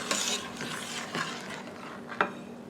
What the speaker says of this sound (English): I'm going to stir this because I certainly don't want that to stick or burn.